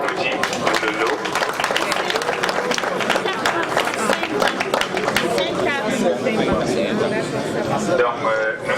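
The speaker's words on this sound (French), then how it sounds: "On applaudit pour le lot." Audience claps for a prize being handed out at a school award ceremony, with crowd chatter and voices mixed throughout the steady applause.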